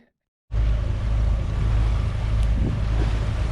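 A sailboat on open water north of Seattle, heading into the wind, sits under a constant loud rush of wind buffeting and deep water roar. The sound begins suddenly after a brief silence and holds steady throughout.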